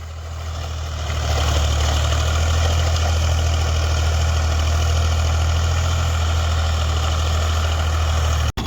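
A Ford 3600 tractor engine runs a rotavator with a loud, steady low diesel drone that rises in the first second, holds evenly, then cuts off abruptly at the end.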